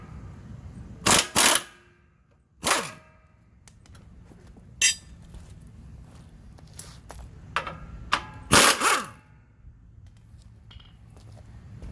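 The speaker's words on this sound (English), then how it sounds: "Let's take this bolt out." Bolt being removed from a Craftsman DLT3000 lawn tractor, with sharp metallic clinks and ratchet clicks in scattered bursts, several loud close clanks separated by quieter mechanical fiddling.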